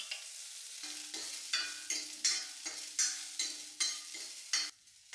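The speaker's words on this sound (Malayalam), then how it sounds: "ഇനി നമുക്ക് വെളിച്ചെണ്ണ ചൂടായിട്ടുണ്ട്. അതിലേക്ക് കടുക്, അതുപോലെ വറ്റൽമുളക്," Mustard seeds, dried chillies and curry leaves hit hot coconut oil in a pan, giving a series of crackling, sputtering bursts in a regular rhythm, loud and close with no talk.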